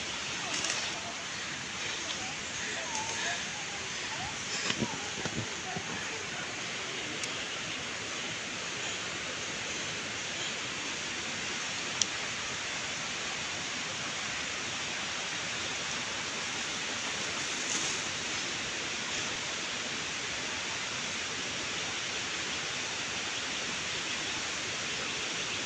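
Hinilugan Falls at its entrance in Pilar, Capiz, gives a steady, far-off broadband roar of falling water that holds evenly throughout, with faint scattered sounds over it.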